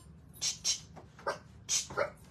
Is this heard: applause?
no